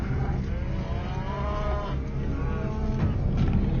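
Livestock cattle moo in a long, drawn-out low call, fairly close, over a steady rumbling outdoor background with no talking.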